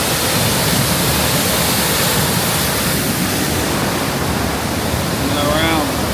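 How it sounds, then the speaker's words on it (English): A loud, steady roar of falling water at Iguazú Falls, a broad constant rush from close by, with a brief voice near the end. "Look at this waterfall."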